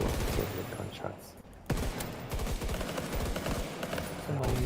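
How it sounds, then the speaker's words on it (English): Rapid bursts of automatic gunfire rattle loudly, pausing briefly before resuming in dense volleys, with voices faintly underneath. "Gunshots."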